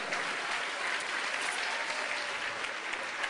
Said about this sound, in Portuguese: Aplauda Jesus Cristo, ó Santo de Israel.